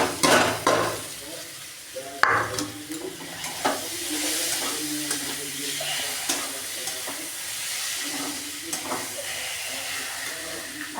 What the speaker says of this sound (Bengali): এই যে আমার মশলাগুলো কষে গেছে, এগুলোর মধ্যে এই যে আমি সিদ্ধ করে মেখে নেওয়া আলুগুলো দিয়ে দেব।